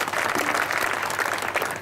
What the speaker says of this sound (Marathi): टाळीवरून स्वागत करा सर्वांनी तुम्ही